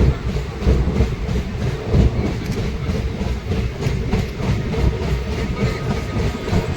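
The Sahid Express pulls away from Amodpur station at dusk, with loud continuous rumbling and rhythmic clickety-clack of wheels over rail joints, heard close from inside the train with no talk.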